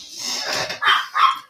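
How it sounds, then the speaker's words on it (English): A small dog barks indoors, a short rising yelp followed by two sharp barks close by, with no talk over them. "Oops, that's my dog."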